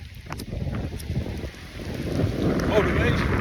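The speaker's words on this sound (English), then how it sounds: "Look at this rain." Rain pours steadily on a trail during a run, a broad hiss swelling louder toward the end, mixed with wind buffeting the microphone and footfall thumps.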